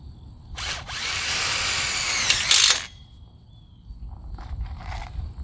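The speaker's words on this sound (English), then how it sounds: "and drive your next screw" A power drill drives a screw into a greenhouse frame during poly stretching: one steady, loud whirring burst of about two seconds that ends with a brief higher whine, followed by quieter handling noises.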